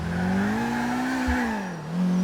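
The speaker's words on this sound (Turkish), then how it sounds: "Bu araba çok değişik bir araba ya. Sürekli değişik bir ses çıkartıp duruyor ya." A steady car engine in Grand Theft Auto IV drones loudly, its pitch sliding up and down as it revs, with a brief low thump partway through.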